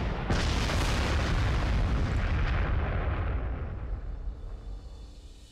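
A 17 cm artillery gun fires in the strategy game Panzer Corps 2: one sudden heavy boom followed by a long rumbling roar that slowly fades out.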